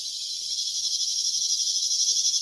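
Cicadas buzz in a dense, loud, continuous high drone that pulses slightly and fills the whole moment with no other sound.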